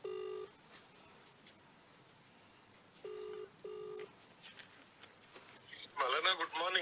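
A phone ringback tone sounds as a few short, flat electronic beeps separated by pauses, then a voice begins speaking near the end.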